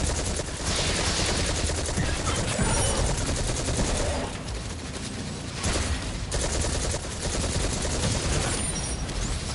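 Kinetic tremor explosions triggered by an armor set bonus in the video game Destiny, a dense rapid barrage of bursting blasts and gunfire that swells and drops in waves, loud throughout.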